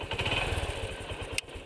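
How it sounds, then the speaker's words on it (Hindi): A kick-started motorcycle engine, set up to fire in one kick with good compression, runs with a steady low, throbbing idle that stays loud and close, with a sharp metallic click near the end. "देखिए मैंने बस ज़रा सा किक मारा और ये हमारी बाइक स्टार्ट हो गई।"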